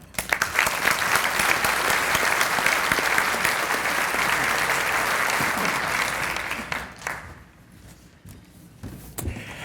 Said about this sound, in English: Give Kevin a round of applause, John.